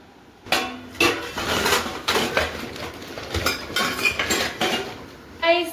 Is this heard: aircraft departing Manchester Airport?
no